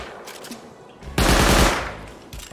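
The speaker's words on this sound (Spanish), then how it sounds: "Un disparo." A burst of gunfire in the survival game Rust, loud and close, rips out for about a second after quieter background noise, then tails off with faint echo.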